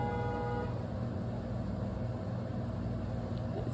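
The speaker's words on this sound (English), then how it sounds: "somebody's out there honking because somebody else is blocking the way" Car horns sound outside where one vehicle is blocking another's path, a faint sustained honk at the start that sinks into a steady, muffled background rumble.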